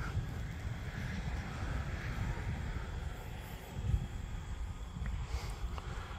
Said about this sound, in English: Just a little under half throttle now, so we can slow it down as we pass.